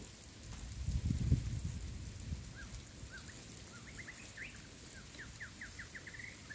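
A bird sings repeated short chirps in a vegetable garden, faint and somewhat distant, over a steady hiss like water spray, after a brief low rustle.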